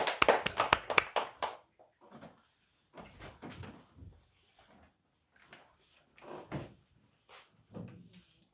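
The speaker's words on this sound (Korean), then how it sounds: "하나님께 영광의 박수 올립니다" A church congregation gives a short burst of applause after a closing prayer at a worship service: a dense flurry of clapping for about a second and a half, then fading into scattered quiet sounds.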